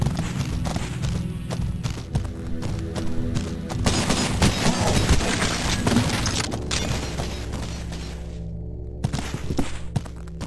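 Dense rapid gunfire in the first-person shooter game Cultic, near and loud, with overlapping shots, thuds and booms rattling continuously for several seconds.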